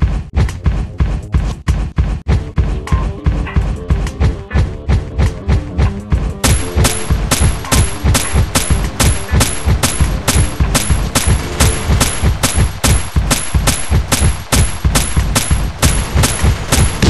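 Gunshots in a police robot car mobile game, a loud evenly spaced string of sharp repeated shots that keeps a fast steady rhythm throughout and grows brighter and more cutting partway through.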